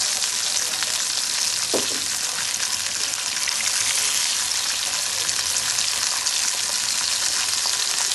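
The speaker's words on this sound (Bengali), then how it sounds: "কড়াইতে তেল দিবেন, ইলিশ মাছ দিবেন, তারপর কড়কড়া করে ভেজে নেবেন।" Hilsa fish pieces fry in hot oil in a wok, a dense, steady sizzle and crackle running unbroken throughout, close and fairly loud, with one brief clink partway through.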